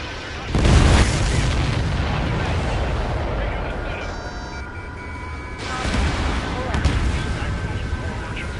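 A missile strikes an enemy in the Ace Combat Skies Unknown video game on PS5. A loud boom breaks out near the start and leaves a long roaring rumble, with game radio chatter and beeps layered over it.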